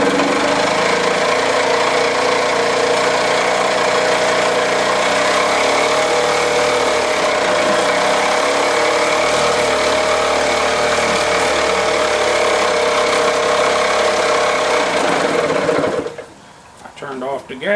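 A 1978 Johnson 2 HP outboard motor runs loud and close with a steady buzzing, rattling drone, then cuts out abruptly near the end, leaving a short sputter and quiet.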